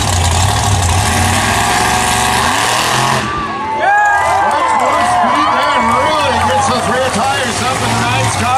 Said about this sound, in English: And the Obsessed Monster truck coming up in the number four slot